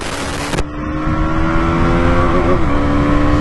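A KTM Duke 200 and a Yamaha MT-15 rev hard and loud up close, engine notes climbing and bouncing against the rev limiter in quick stuttering pulses.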